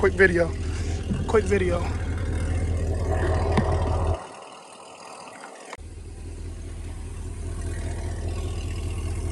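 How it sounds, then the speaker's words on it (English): C6 Corvette engine with a 2-step launch controller, rumbling at idle then revving briefly before cutting out and restarting its low idle, with someone talking near the start. "let's rev it at 34 and see what it does"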